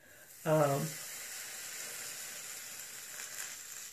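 A short tonal squeak, then a Brilliance New York flat iron hisses and sizzles steadily on damp hair, a soft, continuous crackling sizzle.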